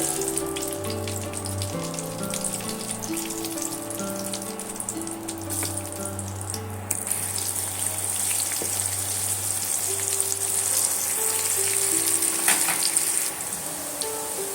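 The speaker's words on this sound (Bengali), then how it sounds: "আবারও আমি বাকি যে আলুগুলো আছে ঠিক একই সেম আমি ভেজে নেব এইভাবে" Potato slices for aloo katli fry in hot oil with a steady close sizzle and crackling spatter running throughout, alone with no talk.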